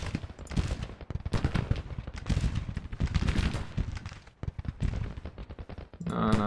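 Dense volleys of musket gunfire roll through a Civil War battle in the woods in Grand Tactician, with overlapping cracks and crackling fusillades, loud and sustained, easing briefly before a final burst.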